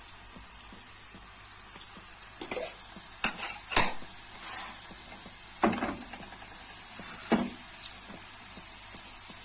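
A metal spoon clinks and scrapes against the pan while tomato paste is stirred into chicken liver cooking on the stove. Sparse, close taps and clatters over a quiet background, with no talking.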